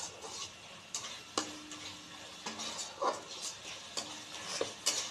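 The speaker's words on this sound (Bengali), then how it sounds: "চিনি দিয়ে আর একটু নেড়ে নেব" Cooked spice paste with sugar stirred in a pan, a soft background sizzle broken by repeated light scraping and tapping of a utensil against the pan at irregular intervals.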